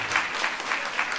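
Audience applause at a women's funding network leadership talk, steady dense clapping from a crowd throughout, with no voices over it.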